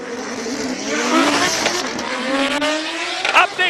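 A BMW E46 race car at a hill climb, its engine revving hard and rising in pitch through gears, loud and fairly close, with a sharp tire squeal near the end.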